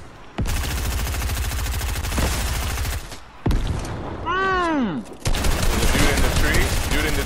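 Rapid automatic gunfire in Fortnite comes in long loud bursts, with short pauses and a sweeping whistle-like effect between them, while players talk.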